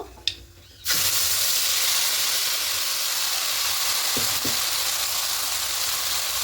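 Spice paste hits hot oil in a frying pan for a Bengali tilapia dish with mustard and poppy seed, bursting into a loud, steady sizzle that holds for several seconds after a brief quiet start.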